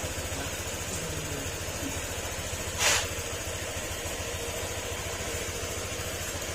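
A Honda Click 125 scooter with an ECU problem idles with a steady low engine hum, near and moderately loud, and a brief burst of noise briefly rises over it partway through.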